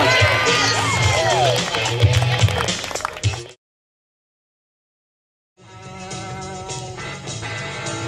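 A large crowd at a dog high-jump event cheers and shouts loudly, breaks off into sudden silence, then the roar of the crowd returns at a steady level.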